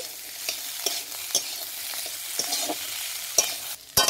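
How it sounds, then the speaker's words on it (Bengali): Potatoes are stirred with cumin paste, turmeric, chilli powder and salt in a frying pan, the spoon scraping in repeated short strokes over a steady soft sizzle, close and moderately loud, with no voices. "এটাকে খুব ভালো করে মিশিয়ে নেব।"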